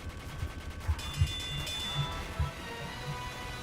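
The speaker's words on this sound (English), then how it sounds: "As it's coming down, you can actually hear the click of the gun being primed." The Tomislav minigun in the video game Team Fortress 2 spins up with a rising mechanical whine. Soft thumps and clicks sound underneath, fairly quiet and close for a few seconds.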